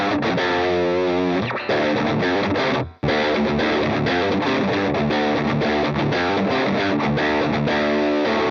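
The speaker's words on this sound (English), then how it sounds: "As you can see, you can use it as a parallel distortion." An electric guitar runs through parallel distortion on a Valeton GP200 multi-effects pedal, playing thick, gritty sustained chords and riffs with a brief cut near the three-second mark before resuming.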